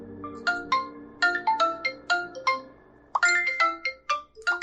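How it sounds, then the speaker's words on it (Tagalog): A cellphone ringtone rings loud and close in a condo, bright repeating melodic chimes in two bursts separated by a short pause, with no talking. "biglang tumunog ang kanyang cellphone"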